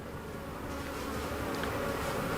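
A low, steady hum of honey bees rises from a brood-filled hive box during a spring inspection in Texas, faint and continuous without speech.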